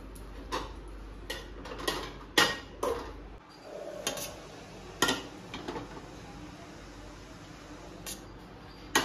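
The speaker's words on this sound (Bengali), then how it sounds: "থালগুলো না দুবার করে ধুচ্ছি, সাদা সাদা হয়ে আছে।" Metal plates are washed and scrubbed by hand, clanking and clattering against each other in scattered, irregular knocks over a quiet background.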